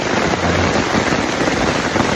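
Rain falls steadily in the forest at Kaeng Krachan National Park in mid-afternoon, a dense, continuous hiss of drops with no voices.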